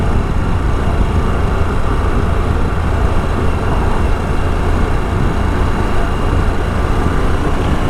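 A 2022 Harley-Davidson Pan America Special motorcycle ridden at steady speed gives a constant loud engine drone mixed with wind rush, unbroken and close, with no voices.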